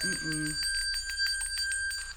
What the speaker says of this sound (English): we got the bell rung